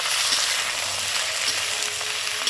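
Eggplant frying in hot oil for a dried fish curry, a steady loud sizzle running without pause, with faint stirring scrapes now and then.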